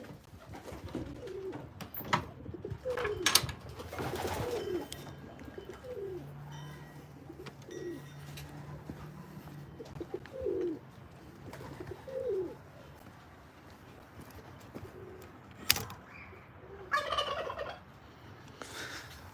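Racing pigeons in a loft give soft, repeated coos in low bursts across a quiet room, with occasional flutters and sharper knocks and a faint background hum.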